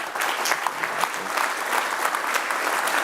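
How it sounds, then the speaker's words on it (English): A conference audience claps steadily, a dense patter of many hands that holds at an even level for several seconds. "Can we give a round of applause for them?"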